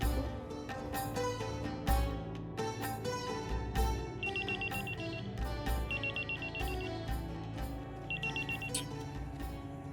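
A cartoon telephone rings in repeated electronic trills over a busy animated scene with music and clattering effects.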